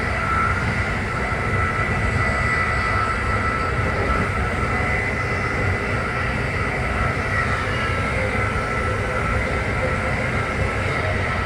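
Amtrak train #183 rolling and slowing into an S-curve near the Torresdale SEPTA station, heard from inside as a steady, loud rumble of wheels and car noise with a faint high whine, continuous throughout.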